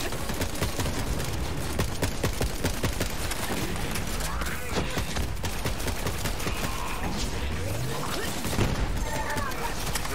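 An SMG fires full auto in Borderlands 3, a continuous rapid stream of shots mixed with other game effects, loud and dense throughout, with a player voice faintly under the gunfire.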